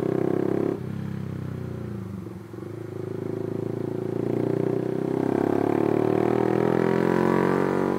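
A Honda Sonic 150R motorcycle with a remapped ECU runs close by, dipping briefly then rising into a steady, louder drone as it revs up.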